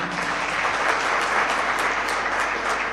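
Dense, sustained applause from an audience at a Superior University Independence Day event in Pakistan, loud and continuous with no pauses.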